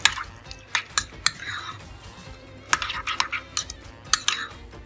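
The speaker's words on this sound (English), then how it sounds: "We can give that a little mix." A chunky salsa vierge of tomato, herbs, salt and pepper being stirred in a bowl, with a spoon clinking and scraping in quick irregular bursts over a wet, soft mixing sound.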